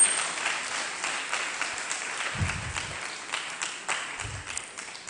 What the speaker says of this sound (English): Please, let's give her a round of applause again.